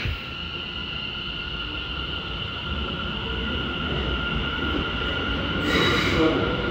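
London Overground train 710113 rolls through Hackney Downs station bound for London Liverpool Street, a steady rumble of wheels with a faint high whine and a brief squeal near the end, heard from the platform.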